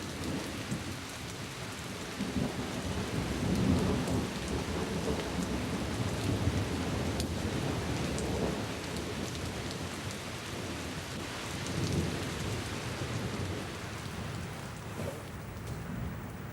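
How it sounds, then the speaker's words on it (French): Steady rain falling on surfaces with a low rumble of thunder underneath, continuous and moderately close, no voices. "Je crois qu'il va pleuvoir."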